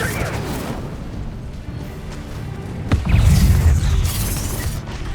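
An Expulso spell explodes in the Hogwarts Legacy video game, bursting sharply partway through and leaving a heavy rumbling boom that lingers over the busy game soundscape.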